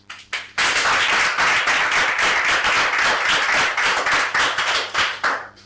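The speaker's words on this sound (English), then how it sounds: "Then clap back." Loud, close crowd clapping at a political address by Dr Samura Kamara, a few opening claps followed by a dense, rhythmic burst of many hands that stays strong, then thins out at the end.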